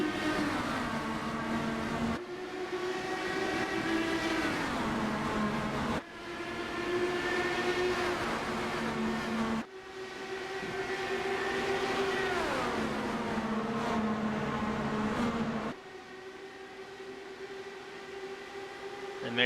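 Dallara DW12 IndyCars racing at Indianapolis after the green flag, engines droning loudly and continuously with rising pitch sweeps as cars accelerate through gears, several shifts and passes layered over one another.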